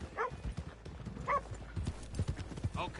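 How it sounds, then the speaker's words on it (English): Horse hooves clip-clop on a town street in the video game Red Dead Redemption 2, a steady clatter mixed with a brief whinny and voices talking over the scene. "let's leave the horses here off the main drag."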